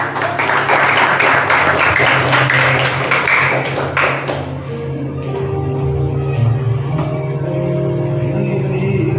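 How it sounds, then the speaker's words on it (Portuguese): Church congregation applauding a woman called to the front, broad clapping noise filling the space for several seconds and easing off, with organ or keyboard tones sustained underneath. "Salve de palmas para o Senhor."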